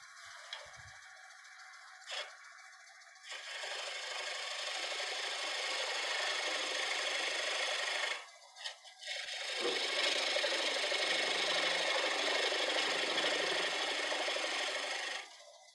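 A woodturning tool scrapes against a spinning wooden bowl on a lathe while refining the nub, a steady, fairly quiet hissing rub that pauses briefly midway and then resumes.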